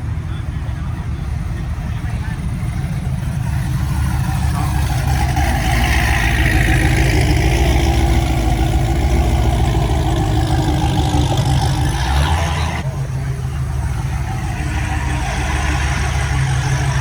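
Several race cars gather at a night meet in Houston, their engines idling in a loud, continuous low rumble that swells slightly as more cars pull in, while people talk nearby.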